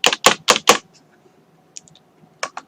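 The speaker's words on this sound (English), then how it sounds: "I'm gonna type in my password in there" Quick burst of four sharp keystrokes on a computer keyboard while entering a password, then a pause and a few lighter, scattered taps, close and clear with no talking.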